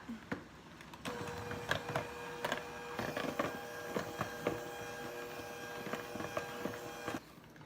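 Electric mixer whipping heavy cream with powdered sugar, a steady motor whir with a constant hum and scattered clicks and knocks of the beaters against the bowl.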